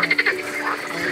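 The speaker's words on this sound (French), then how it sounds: "on entend énormément les grenouilles" A dense chorus of frogs croaks at a zoo's wetland plain, rapid pulsing calls overlapping in a loud, continuous mass close by.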